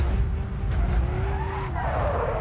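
A buggy drifting on a downhill course in the video game BeamNG Drive, a continuous engine roar with a sliding tire squeal running through it.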